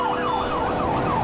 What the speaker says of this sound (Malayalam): അവിടെ ഒരു ആംബുലൻസ് കുടുങ്ങി.